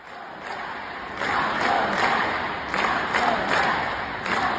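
Capacity crowd at a Harris Walz campaign rally, a dense, steady roar of voices swelling in repeated surges of chanting and cheering, loud and continuous throughout.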